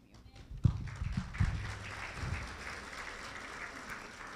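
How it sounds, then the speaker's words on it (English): Congregation at a Baptist resurrection celebration service clapping, a few thumps and knocks at the start, then a steady, moderately loud spread of hand claps continuing throughout. "I think you can give me a better round of applause"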